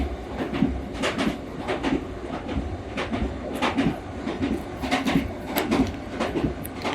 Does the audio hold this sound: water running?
no